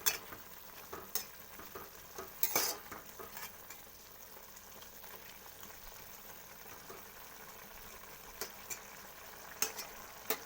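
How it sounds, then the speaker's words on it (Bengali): Turmeric being stirred into food in a pan with a little mustard oil, steady frying sizzle throughout, with scattered scraping and spatula knocks against the pan, close and moderately quiet. "হলুদ দিয়ে দিয়েছি। একটু নেড়ে দিচ্ছি।"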